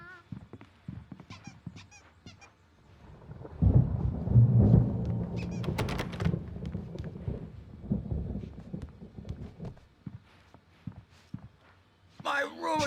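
A storm rumbles with thunder in Alan Wake Remastered, a heavy low roll swelling midway and fading slowly, with scattered clatter and faint background sounds around it.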